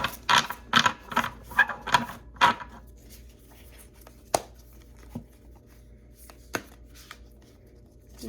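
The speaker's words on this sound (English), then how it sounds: "I'm just going to shuffle it a little more." A deck of tarot cards is shuffled by hand in a quiet room. A quick rhythmic series of six crisp riffling snaps comes first, followed by a few sparse, isolated taps and card slaps.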